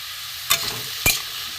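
Hilsa fish head and ash gourd frying in a pan, stirred with turmeric, salt and sugar: two short scraping stirs against a steady sizzle, close and alone.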